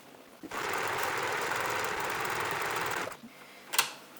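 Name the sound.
sewing machine back-stitching a pencil case side seam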